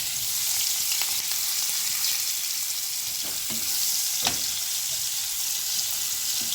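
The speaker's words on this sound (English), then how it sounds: "I'm frying my paneer." Steady, close sizzling of paneer frying in hot oil, a constant crackling hiss with a few sharper pops and clicks scattered throughout.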